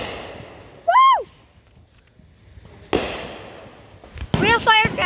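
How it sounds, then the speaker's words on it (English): Firecrackers going off outdoors during a 4th of July fireworks night, two sharp cracks standing out against a quiet background, while people whoop and shout loudly nearby in between the bangs. "Real firecracker over there."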